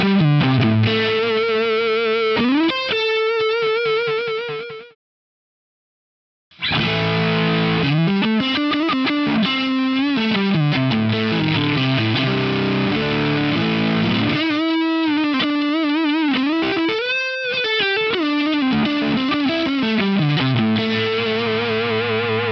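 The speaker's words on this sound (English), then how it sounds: "we'll hear compressor into drive, then drive into compressor" An electric guitar plays through compressor and drive effect blocks, the order swapped partway through, giving two versions of a thick, distorted sustained riff separated by a brief silence.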